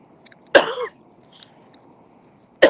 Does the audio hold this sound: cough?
yes